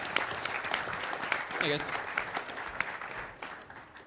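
Quiet, steady applause from an audience at a game jam event, a continuous patter of claps with a few sharper ones, with a voice briefly greeting the crowd partway through.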